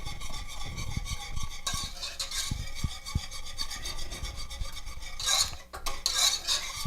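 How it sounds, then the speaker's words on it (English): Chocolate cream pie filling whisked in a pot over medium-low heat, a close rhythmic scraping and tapping of the whisk against the metal pot, steady strokes with no voices. "It's on medium-low heat, and now we're whisking it."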